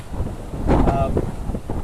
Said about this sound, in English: As you can hear, it's quite windy here.